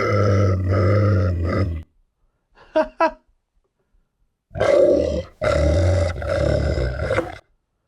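AI-generated roar sound effect built from a recorded human voice imitating a roar: a long growling roar, two short grunting bursts after a pause, then two more deep roars in quick succession.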